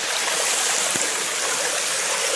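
Running water of a stream flowing beneath a railway trestle on the E&N Railway on a foggy day, a steady, close, full rushing and trickling wash with no pauses.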